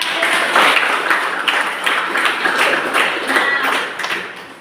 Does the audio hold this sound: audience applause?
yes